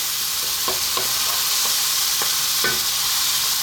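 Turmeric, chili, cumin and coriander are stirred briskly in a pan over high heat, with a steady loud sizzle and a handful of light scraping strokes from the spoon, nearby and without speech.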